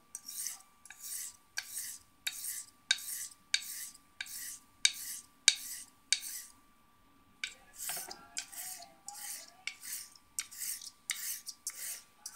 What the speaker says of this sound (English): I'm going to set the bevel on this DMT number 600.